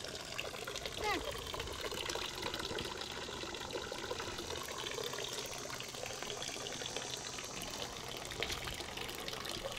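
Gentle water trickling and splashing continuously in a koi pond in the background, fairly faint, with some quiet voices and outdoor noise around it.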